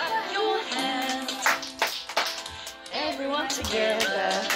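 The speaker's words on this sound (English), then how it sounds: "Clap your hands," Hands clap during a hello song in a toddler music lesson for ages one to three, the scattered claps partly buried under a singing voice and melody.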